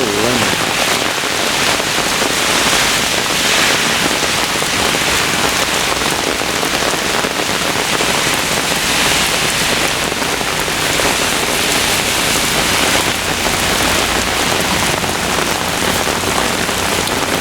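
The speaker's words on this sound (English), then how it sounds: "We're getting some heavy rain right now." A thunderstorm downpour over Brooklyn, New York in August 2012 roars as a steady, loud wash of rain pelting nearby surfaces, continuous and even for the whole stretch.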